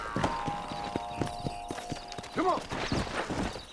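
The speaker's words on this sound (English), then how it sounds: "sorry, I gotta get a horse." Horse hooves clip-clop at a steady trotting rhythm in Red Dead Redemption on PC at a horse race, close and distinct, with a short whinny and someone speaking briefly.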